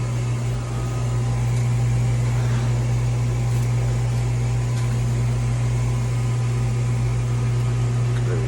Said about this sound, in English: My bad about that fan, it was hella loud.